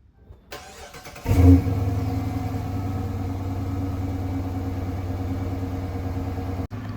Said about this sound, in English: let's get this thing started up and hear how the engine sounds